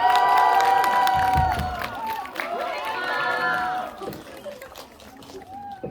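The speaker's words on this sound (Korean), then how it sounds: "박수로 맞아주세요" A cinema audience cheers and applauds as a film director and actors come out for a stage greeting, excited voices and shouts over clapping, loud at first and then thinning out.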